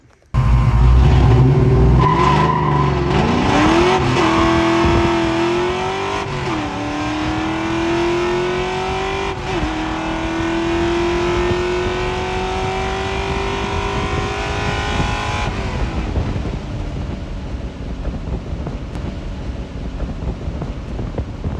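A Ford Foxbody Mustang with rear tires aired down to 18 PSI makes a drag run, its engine revving hard and rising through gears before fading as the car pulls away, loud and close with no talk.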